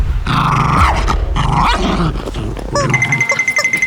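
A dog growls and snarls steadily while playing with a toy rubber chicken, a close, continuous rumbling growl that ends in a few squeaky, whining yips from the toy.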